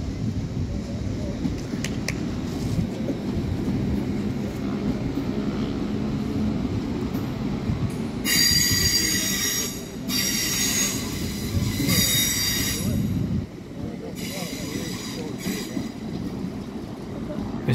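An LNER Azuma class 801 train rolls through Doncaster on the East Coast Main Line with a continuous loud rumble, and bursts of high wheel squeal repeat through the middle of the pass.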